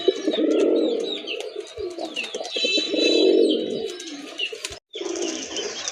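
Domestic native pigeons coo in deep, rolling bursts close by, with a few higher chirps between phrases and a brief pause near the end.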